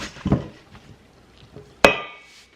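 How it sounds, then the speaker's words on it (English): A dough whisk mixes sourdough in a bowl, giving a few dull knocks followed by one sharp clink against the bowl that rings briefly, close and fairly loud. "gonna mix it as much as I can with my bread whisk here, my dough whisk rather"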